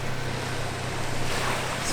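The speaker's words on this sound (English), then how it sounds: "Motor sounds great." Outboard motor of a small Whaly 370 plastic boat running on Jordan Lake, North Carolina, a steady broadband drone with a low hum, mixed with water splash and wind buffeting across the whole stretch.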